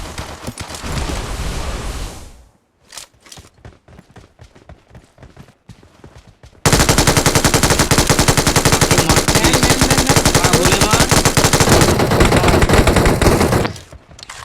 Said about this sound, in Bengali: গুলি আমি পুরো নামিয়ে দিলাম